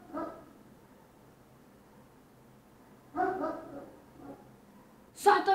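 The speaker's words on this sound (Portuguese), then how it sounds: "Essa porra desse cachorro." Small dog barking in short bursts, a cluster of yaps around three seconds and sharper, louder barks near the end, with quiet indoor background between them.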